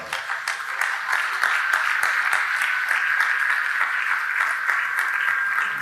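A crowd at a radio station's 30th anniversary celebration applauds their CEO, a loud, even wash of many hands with crisp individual claps standing out and no speech.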